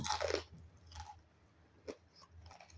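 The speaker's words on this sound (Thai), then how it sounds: "กรอบมากเลย อร่อยสุดยอดอร่อยมาก" Close, quiet crunching as someone bites and chews crispy fried marinated food, with a strong crunch at the start followed by softer, scattered chewing sounds.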